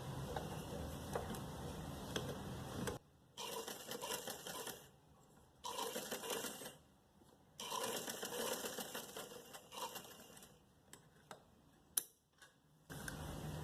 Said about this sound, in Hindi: 4-5 दफ़ा सिलाई करें ताकि ये निकल ना जाए।